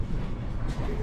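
A passenger train running in Alberta, heard from inside the rear car: a constant loud rumble of wheels and carriage noise, with a brief hiss of air near the end.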